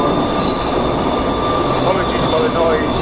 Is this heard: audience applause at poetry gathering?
no